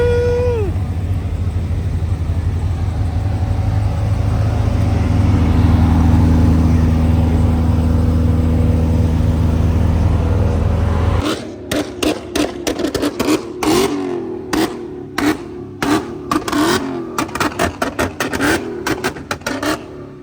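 A Dodge Demon's engine roars steadily and loudly for about ten seconds, then breaks into a string of sharp, choppy revs and bursts that sound close by, with faint voices underneath.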